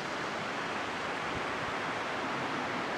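Water rushing down a waterfall and river in a mountain pine forest makes a continuous broadband roar, steady and fairly loud, with no other sounds over it.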